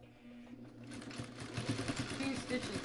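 A sewing machine stitches back and forth over a quilt carrier, a soft, fast rhythmic whir with quick repeated clicks, steady and close under a low background.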